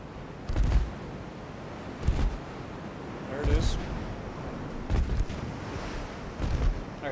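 Naval artillery fire in the warship game Ultimate Admiral Dreadnoughts: four heavy booming salvos at roughly one-and-a-half-second intervals, each a deep low rumble over steady background noise.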